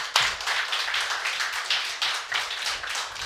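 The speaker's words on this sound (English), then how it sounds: "Round of applause." A small group clapping for the winning team after a Counter-Strike grand final, a short, fairly quiet round of uneven claps with distinct individual hits and little else.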